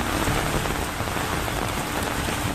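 Heavy rain pours during monsoon flooding in Uttarakhand, a dense, loud, unbroken roar of drops hitting surfaces with no voices.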